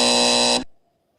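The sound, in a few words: buzzer sound effect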